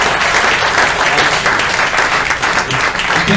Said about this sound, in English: An unbelievable round of applause for Joe.